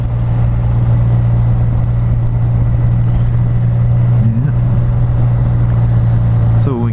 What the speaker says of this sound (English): listen to the low RPMs this thing will growl from.